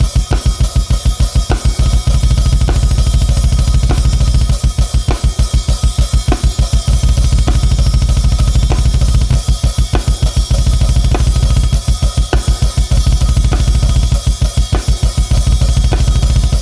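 Rapid, steady bass drum pedal strokes at 200 BPM pound in quick bursts with brief pauses between, close and loud over a constant background hiss.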